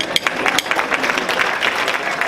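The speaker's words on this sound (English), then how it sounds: "Give her a round of applause." Applause from the audience at an awards and dinner gala, a dense, bright wash of clapping that stays steady and fairly close for a couple of seconds.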